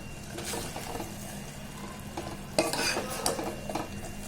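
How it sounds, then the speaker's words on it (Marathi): Puran filling is stirred in a pan as it thickens, a quiet, steady shuffle with faint sizzling. Scraping strokes get louder toward the end. "आता हे घट्ट होईपर्यंत आपल्याला परतून घ्यायचं आहे"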